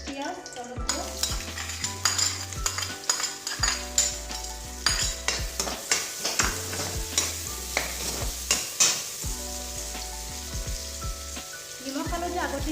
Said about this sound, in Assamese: এতিয়া চেম তেলতে মই দিছোঁ পিঁয়াজ, জলকীয়া,